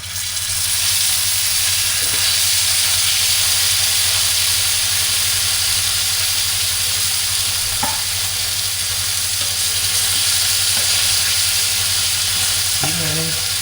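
Small eggs frying in hot oil in a pan, a steady broad sizzle and hiss running the whole time with a few faint clinks of a utensil, close and fairly loud.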